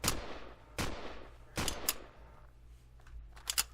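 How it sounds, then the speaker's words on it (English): Enemy turrets in the Empyrion space game fire through walls: several sharp, close shots, with a double burst in the middle and a quick cluster near the end, separated by short quiet gaps. "now I'm taking damage from something that's shooting me through walls"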